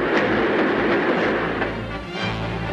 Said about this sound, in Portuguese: O trem vem vindo